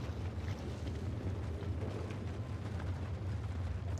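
A firework in the Outer Wilds video game bursts into a steady, rumbling roar with heavy low-end noise that holds for several seconds, no voices.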